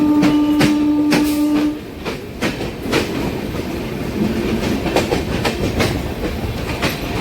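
The Chennai–Nizamuddin Duranto superfast express runs past Basin Bridge Junction without stopping. A sustained horn tone opens, then a steady rhythmic clickety-clack of wheels over rail joints rumbles on loud and near.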